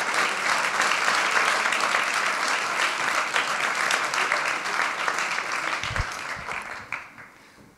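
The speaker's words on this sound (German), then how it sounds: "Ein Applaus für alle SpeakerInnen" Steady applause from a conference audience at the closing of Winterkongress 2020, dense clapping held for several seconds before tapering off near the end, with a few thumps and stray voices underneath.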